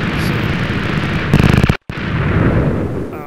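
A Minecraft cannon fires: a loud burst of rapid crackling explosive pops lasting about half a second, followed by a brief drop to silence and then a constant game background roar.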